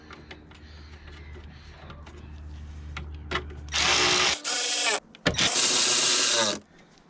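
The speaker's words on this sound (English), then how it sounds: "Refit the 2 bolts either end." A power tool drives bolts back into a BMW N52 engine in an E87 130i, with a quiet mechanical stretch followed by two loud, close whirring bursts separated by a short gap.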